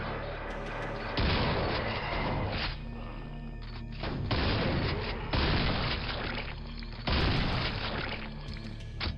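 Shotgun blasts in Quake, several heavy booming shots spaced a second or two apart, each a loud thudding burst with a short rumbling tail over a low droning background.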